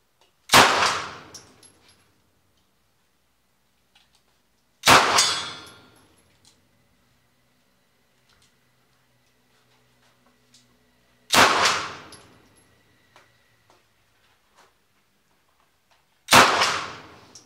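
A PM-63 RAK submachine gun fired as single shots, with four loud, sharp reports several seconds apart, each followed by a short ringing decay, and near-silence between them.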